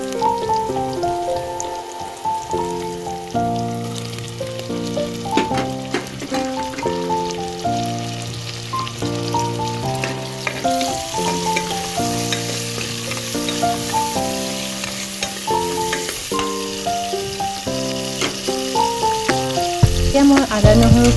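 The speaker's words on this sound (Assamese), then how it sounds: "এতিয়া মই পিঁয়াজখিনি ভাজি আছোঁ, অলপ ৰঙচুৱা হোৱালৈকে মই ভাজি থাকিম।" Onions fry in a pan for an Assamese egg biryani, a steady sizzle heard beneath prominent melodic background music throughout.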